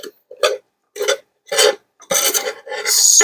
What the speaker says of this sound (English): Scrape it all out